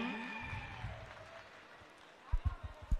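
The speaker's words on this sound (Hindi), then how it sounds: "जोरदार तालियां जी" Applause from spectators at a live kushti dangal wrestling match in Kangra, Himachal Pradesh, a fairly distant crowd clapping outdoors, with a few louder close thumps near the end.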